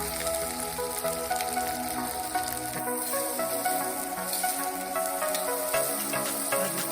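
Onion frying in hot lamb fat in a kazan for Uzbek plov, a steady loud sizzle and crackle filling the whole stretch without pause.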